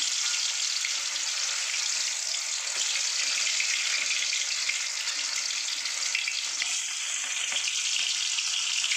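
Steady, bright sizzling of bhola fish frying in hot oil in a wok, continuous and fairly close, with faint clinks now and then and no voices.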